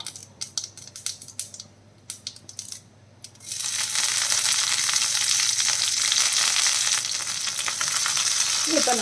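Sharp scattered pops and crackles of mustard seeds give way to a sudden loud, steady sizzle of curry leaves frying in hot oil that continues to the end.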